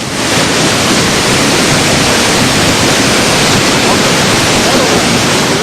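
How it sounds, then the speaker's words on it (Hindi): The flooded Bhagirathi river, swollen by heavy rain and running above the danger mark, rushes in a loud, unbroken roar of churning water close by. "भारी बारिश के चलते भागीरथी खतरे के निशान से ऊपर बह रही है।"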